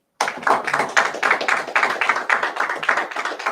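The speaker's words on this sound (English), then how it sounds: "right, just clap it up." A group at a Sabbath service claps hands together in a steady, quick rhythm, the claps close and fairly loud, with no talking.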